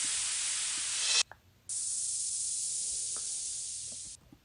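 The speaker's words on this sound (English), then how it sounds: "A little reverse here." Reversed white-noise down-sweep effect from a Splice sample in a Latin tech house production: bright broadband hiss bursts that cut off abruptly, with a short gap before the noise returns and sweeps on.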